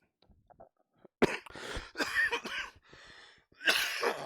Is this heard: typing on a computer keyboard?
no